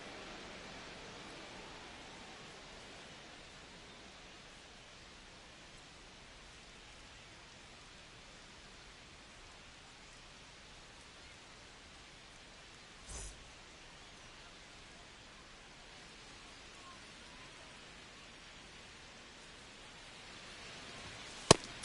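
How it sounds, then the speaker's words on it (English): Steady rain falls over a ballpark in MLB The Show 25, a constant broad hiss that runs unbroken throughout, with one brief sharp tick midway and faint clicks near the end. "This rain is not letting up."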